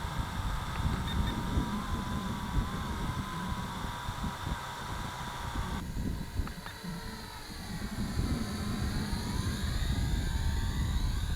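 A Syma X8C quadcopter drone flies low and backwards at full pitch in a light breeze, its propellers giving a steady, high buzzing whine that shifts in pitch as it moves, heard alone throughout.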